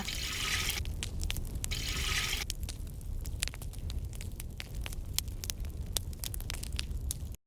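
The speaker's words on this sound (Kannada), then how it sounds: "ನೋಡಿ ಈ ಮಣ್ಣಿನ ಪಾತ್ರೆಗೆ ಒಂದು ಎರಡು ಗ್ಲಾಸ್ ಹಾಲನ್ನು ಹಾಕುವ" Dairy milk, thinned with water for tea, is poured into a clay pot. A close, continuous liquid trickle runs with scattered sharp drips and small clicks before it cuts off abruptly.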